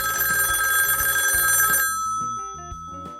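A 1970s rotary telephone bell rings loudly in a continuous jangling burst that cuts off abruptly partway through, followed by quieter background music.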